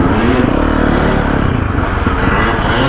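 A dirt bike engine bogs down under load on a rough off-road trail. It gives a loud, close, continuous low rumble with rattling and scraping, and no revving rise.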